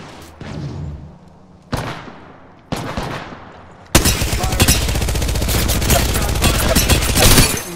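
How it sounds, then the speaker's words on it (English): Gunfire in Apex Legends: a few separate loud shots, then a sustained rapid burst of automatic fire that keeps going to the end, close and dominant. "Bad boys are shooting at me."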